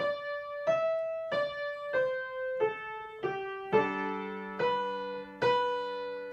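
Piano playing a slow melody from a song in single sustained notes, one every half second or so, with fuller chords entering toward the end; clear and close.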